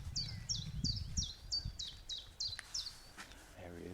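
A chiffchaff sings from the top of a small hawthorn in scrubby blackthorn and bramble at Walney at dawn. It gives a steady series of about nine high, evenly spaced notes over a low background rumble.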